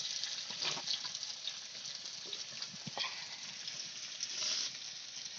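Grated ginger frying lightly in a pan among vegetables for a vegetarian spinach dish: a steady, soft sizzling hiss that carries on evenly, with a few faint clinks and no talking.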